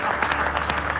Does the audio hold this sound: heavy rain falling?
no